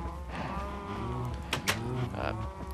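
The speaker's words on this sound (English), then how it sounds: "Got a lot of cows." Cows mooing in the Minecraft video game, several low drawn-out moos overlapping in a steady game soundscape, with a couple of sharper bursts mid-way.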